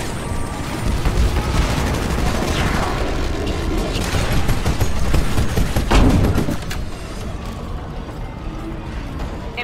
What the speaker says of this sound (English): Got it. Firing now.